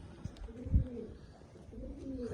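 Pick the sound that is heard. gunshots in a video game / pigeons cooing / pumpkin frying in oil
pigeons cooing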